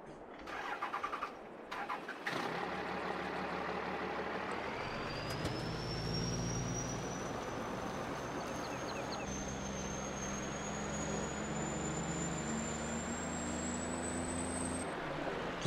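Truck engine with a turbo in Farming Simulator 22 starts with a few cranking bursts, then settles into a steady low rumble as a turbo whistle climbs slowly and holds high, loud and continuous.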